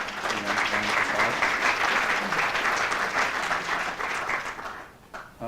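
Audience at a university lecture award event applauding, a dense, even wash of clapping that holds steady and then tapers off near the end.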